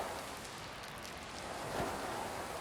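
Soft, even rain patter in the 2019 PC game Inmost, a faint, steady hiss with a slight swell near the end and no voices.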